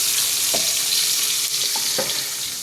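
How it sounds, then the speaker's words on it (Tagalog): Garlic sautéing in oil in a pan for sinigang na hipon, a steady close bright sizzle with a few soft stirring knocks and clinks. "Saute the garlic."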